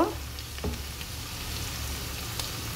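Nigella seeds (kalo jeera) and cumin frying in hot oil to temper dal, a low continuous sizzle with a burst at the start and a few light clicks of stirring, close and steady.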